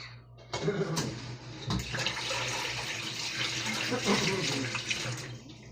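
Tap water runs steadily into a kitchen sink for washing dishes, a continuous close splashing hiss that starts abruptly and stays loud throughout, with a few faint clinks.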